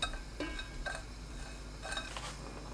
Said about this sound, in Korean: 냄비에 손질한 국물용 멸치 15마리 넣고 센 불로 1분 볶아주세요.